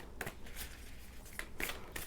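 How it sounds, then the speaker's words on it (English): Animal Oracle deck cards being shuffled by hand: a few soft, brief riffling swishes and flutters, quiet and close, with no talk. "I will just shuffle these cards here, the Animal Oracle deck."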